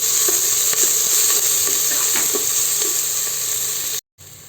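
Crushed ginger, green chilli and garlic sizzling steadily in a hot pan for a vegetable biryani, a loud continuous hiss with faint clicks of stirring, cutting out abruptly near the end.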